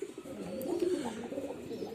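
Pigeons kept by a breeder, some sick with pigeon pox, coo in a steady low, throaty murmur, close and continuous with no talking.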